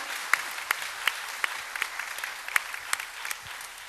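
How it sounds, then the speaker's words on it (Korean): Scattered handclaps from a church congregation during a service, sharp separate claps at a loose steady rhythm over a soft hiss of room noise, moderately near, with no talking. "some of you wanted to clap"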